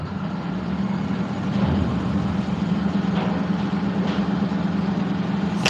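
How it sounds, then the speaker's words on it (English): A lorry idles right up at a gate, a steady low diesel rumble holding evenly throughout with faint rustling and occasional small clicks on top, no one speaking. "I've got a lorry right up to my gate"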